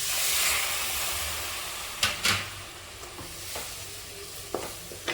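Milk poured into a hot pan of roasted semolina and cocoa powder, a steady hiss and sizzle with a few sharp clinks of the spoon as it is stirred, close by and alone without talk.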